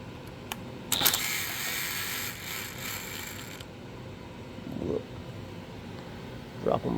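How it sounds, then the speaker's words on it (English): An 8mm socket on a ratchet wrench backs bolts out of a Trojan UV light assembly, giving short bursts of clicking ratchet teeth, loudest near the start, then quieter mechanical clicks and handling noise with a few brief knocks near the end. "It's never good when you hear ratcheting like that."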